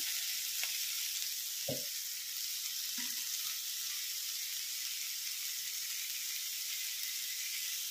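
Capsicum and tomatoes frying in a pan for capsicum palya, giving a steady, even sizzling hiss with a couple of faint clinks near the start.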